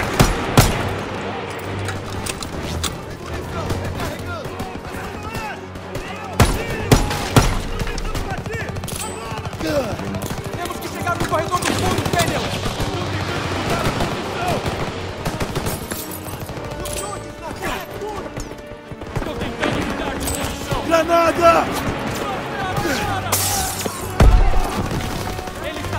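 Gunfire in the World War II shooter Call of Duty WWII: sustained bursts of machine-gun and rifle fire with booms and crashes, dense and continuous throughout, with occasional voices mixed into the battle.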